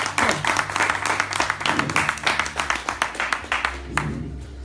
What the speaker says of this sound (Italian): un applauso per l'ingegnere